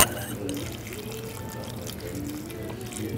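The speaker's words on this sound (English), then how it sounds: "So we're just going to pour this quart of water in here that we have the" A quart of water mixed with soil starter is poured over peat pellets in a tomato growing kit, giving a soft, steady trickle and splash for a few seconds, fairly quiet and close.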